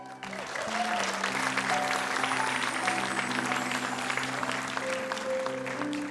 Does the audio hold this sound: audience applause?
yes